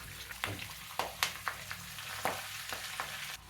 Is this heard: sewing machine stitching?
no